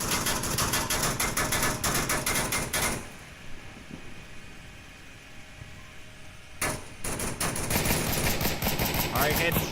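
Dense, rapid automatic gunfire from a match of the Onward VR shooter, loud bursts filling the opening seconds, a quieter lull with faint distant shots, then heavy firing resuming near the end.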